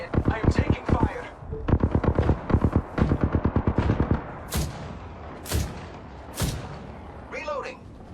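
Apex Legends gunfire: a rapid automatic burst of loud shots, then three heavy single booms with ringing tails, and a short voice near the end.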